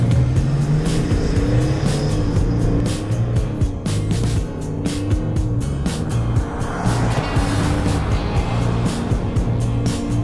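A 2023 Chevrolet Suburban diesel SUV accelerating hard from a standing launch, its engine roaring loud and continuous with rising, shifting tones and road noise throughout, no voices over it.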